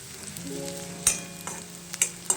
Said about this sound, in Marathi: बस 2 ते 3 मिनिट आपल्याला कांदा परतायचा आहे